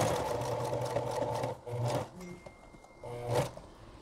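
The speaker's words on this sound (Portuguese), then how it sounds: "agora é só passar na máquina bem aqui na pontinha" A sewing machine stitches bias binding around a 90-degree corner in short, slow bursts. Each bursts whirs briefly, stops, then restarts after a pause.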